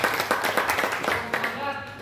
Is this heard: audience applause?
yes